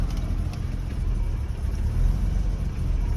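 An old car engine runs steadily at close range after an air-flow meter adjustment to correct a rich fuel mixture, giving a continuous low rumbling idle with no voices over it.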